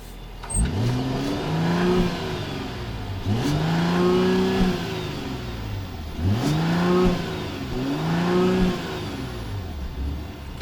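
A 2020 Mercedes-Benz GLE 450's 3-liter straight-six turbo engine revs in repeated bursts, rising and falling roughly every two to three seconds, loud and close with a steady mechanical hum between.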